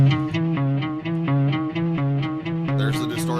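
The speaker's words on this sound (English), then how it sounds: "There's the distortion, back off." Hard-clipped distortion on a boom bap beat being mixed, a steady looping pattern of buzzy, saturated harmonic notes that repeats in a regular rhythm, loud and dense throughout.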